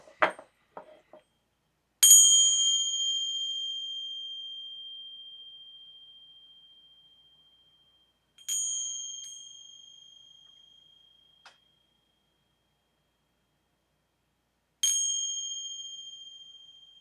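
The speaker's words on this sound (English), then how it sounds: "I'm going to ring bells. They might be a little loud." Three clear bell chimes rung one at a time in a quiet room, each ringing out and slowly fading before the next strike.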